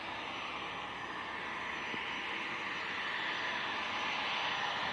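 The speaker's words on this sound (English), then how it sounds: "The NetJet Citation is actually over the field at the moment" A NetJets Cessna Citation business jet passes directly over Leeds Bradford Airport, a steady broadband jet roar that holds loud and even, slowly swelling throughout, with no voices.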